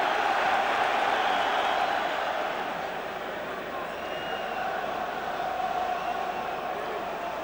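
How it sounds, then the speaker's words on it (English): Large stadium crowd at a Wales v England Five Nations rugby union match, a broad steady roar that swells loudly at first, dips slightly, then holds at a sustained level throughout. "Listen to the crowd."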